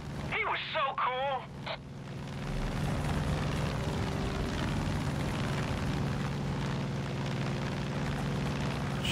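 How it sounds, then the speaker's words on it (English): A plane flies in Far Cry 5 with a constant loud propeller-engine drone that sustains throughout. Voices and bursts of sound come early, and talking runs over the engine. "I'm having fucking trouble flying this plane"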